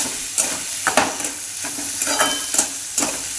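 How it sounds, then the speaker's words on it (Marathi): Moong beans with dill greens are stirred in a hot pan, giving a soft steady sizzle broken by a spatula's repeated scraping strokes about every half second, close and without talk. "अगोदर ते असे एक मिनटासाठी असे हलवत राहायचे"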